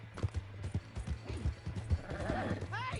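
Horse hooves clip-clop in a rhythmic gallop in Red Dead Redemption 2, regular thuds heard close, with shouted voices and a horse whinny over the hoofbeats.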